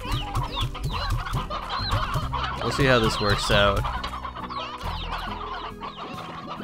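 Hens cluck and chatter busily, close and loud, in the video game Slime Rancher, with a brief spoken remark mixed in among the calls.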